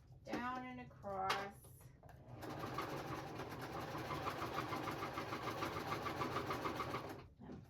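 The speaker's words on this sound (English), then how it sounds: "I'm just going to sew down and across." A sewing machine stitching scrappy fabric notepads runs in a steady fast whirring chatter for about five seconds, close and moderately quiet, after someone speaks briefly at the start.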